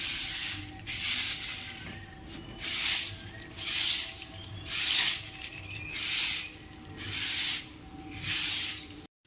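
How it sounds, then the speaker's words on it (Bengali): A broom sweeps a courtyard in regular, rhythmic swishes, each stroke a breathy brushing sound repeating about once a second, close by, with no talk. "এবার আমি উঠোনটা ঝাড় দিয়ে নেবো।"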